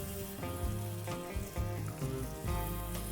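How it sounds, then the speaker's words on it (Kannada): Sliced onion frying in a pan, a close, continuous crackling sizzle with occasional louder pops and stirring noises. "ಈರುಳ್ಳಿನೂ ಚೆನ್ನಾಗಿ ಫ್ರೈ ಮಾಡ್ಕೊಳ್ಳೋಣ."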